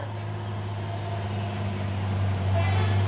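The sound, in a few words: trailer truck driving on a hill road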